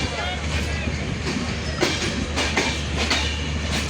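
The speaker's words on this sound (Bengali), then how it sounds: "66-37 লোকোমোটিভ নিয়ে 705 বিউটি কুইন একতা বিরামপুর আউট করলো" Ekta Express intercity train UP 705 with locomotive 6637 leaves Birampur, its wheels clattering in a loud steady rhythm with repeated rail-joint clicks and a low rumble, heard close from on board under occasional talk.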